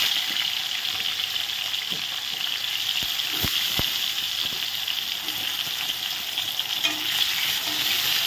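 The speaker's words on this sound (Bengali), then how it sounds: "আলুগুলো এখন একটু ভালো করে ভেজে নেব।" Potatoes fry in oil with a steady, bright sizzle up close, punctuated by a few sharp clicks and spatters, and no talking.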